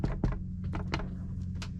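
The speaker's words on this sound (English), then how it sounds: "Why do you have to knock on it? To hear if it's hollow, then it should be ready." Knuckles knock on a freshly baked homemade bread loaf on a sailing boat, giving a few dull, hollow thumps spaced unevenly and heard close, over a low steady background hum.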